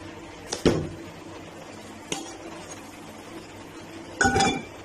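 A plate is set down onto a pan to flip a cooking egg-and-potato dish, making a few sharp ceramic-on-metal clinks spaced apart over a low steady hiss.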